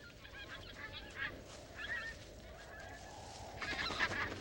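Greater white-fronted geese on Alaskan tundra nesting grounds, giving repeated high honking calls at moderate distance over a steady wind-like background.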